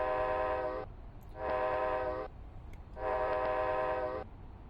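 A train horn in Flight Simulator X near Anchorage sounds three long, steady, loud blasts, the first and last lasting over a second each, with a short pause between them and a low rumble of rail noise underneath.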